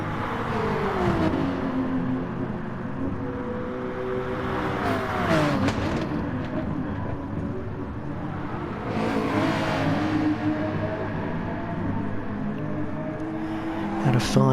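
GR3 race cars lap the St-Croix circuit in Gran Turismo Sport, with engines revving and whining up and down through the gears and a car passing close by, loud and continuous under race commentary.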